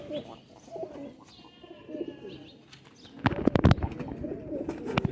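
A male high flyer pigeon gives soft, low, throaty coos in a loose rhythm near the microphone, then wing flaps and louder rustling break in over the continuing cooing and other bird chirps.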